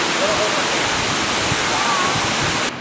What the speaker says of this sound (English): You can see the mist come off the waterfall there.